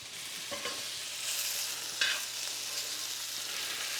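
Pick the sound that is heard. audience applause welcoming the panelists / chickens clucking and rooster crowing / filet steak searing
filet steak searing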